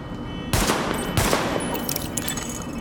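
Two sharp handgun shots from a sidearm, about half a second apart, crack out at test targets in The Division video game, each trailing a short reverberant tail over a steady background hum.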